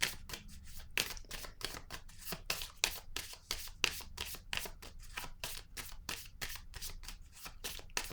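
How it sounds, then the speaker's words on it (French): Tarot cards being shuffled and handled, a steady run of crisp, rapid riffling and flicking bursts, close and fairly quiet, with no talk. "Je vais choisir mes cartes."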